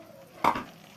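A spoon scrapes and clanks once against a pot while chili masala is stirred into chicken pieces, a single brief, fairly close stirring knock with no voices.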